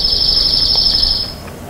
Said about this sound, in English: there's these trills, so you hear the trill again